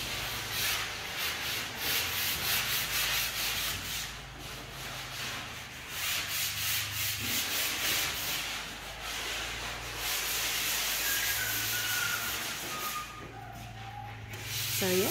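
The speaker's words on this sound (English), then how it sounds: "Here we go, sanding away." Steady sanding of internal wall sheeting inside a new art studio, a continuous abrasive rubbing hiss with rhythmic strokes, under a low machine hum and with no talking.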